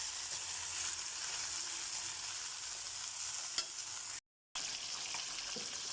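Corn kernels being sautéed in a pan with tomato, a steady broadband sizzle with faint stirring scrapes, continuous and close, briefly cut out near the end.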